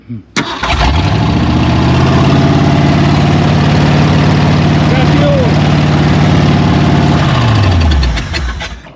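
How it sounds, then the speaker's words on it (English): An old Ford car engine cranks briefly, catches and fires up, then runs loudly and steadily for several seconds before winding down at the end. "we'll see if she runs on her own. Fire it up."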